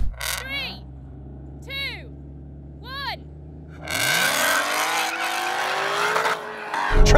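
Three electronic start beeps sound over an idling rumble before a Ford Mustang, Chevrolet Camaro ZL1 and Dodge Hellcat Redeye launch in a drag race, their engines bursting into a loud, sustained roar with rising pitch.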